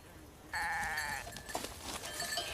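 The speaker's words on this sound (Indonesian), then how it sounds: "Dan itu adalah segerombolan kambing yang tengah mencari makan, bersama dengan 3 orang penggembala." A herd of goats foraging with three herders on a hillside, a clear bleat holding for about a second, then scattered softer calls and rustling at moderate distance.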